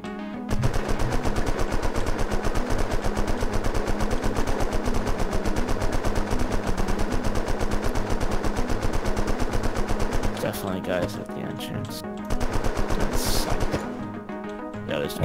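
Rapid automatic gunfire rattles almost nonstop as players shoot zombies in the game Unturned, loud and sustained before breaking into scattered shots, with voices talking over it.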